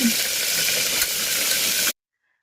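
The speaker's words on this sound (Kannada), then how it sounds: "ಈ ಎಣ್ಣೆ ಕಾದ ನಂತರ ನಾನಿಲ್ಲಿ ಅದಕ್ಕೆ ಸಾಸಿವೆ ಹಾಗೆ ಸ್ವಲ್ಪ ಜೀರಿಗೆನ ಹಾಕ್ಕೊಳ್ತಾ ಇದ್ದೀನಿ ಸಾಸಿವೆ ಚಟಪಟ ಅಂತ ಸಿಡ್ದಾದ್ಮೇಲೆ" Mustard seeds and cumin spluttering in hot oil make a steady, close sizzling hiss with small crackles for about two seconds, then cut off abruptly to silence.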